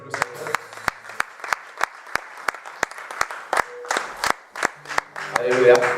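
A church congregation claps in steady rhythmic unison, loud and close, with a worship leader's voice speaking over the applause.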